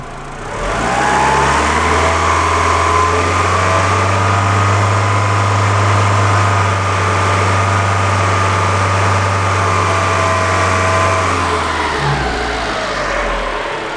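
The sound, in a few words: car engine revving up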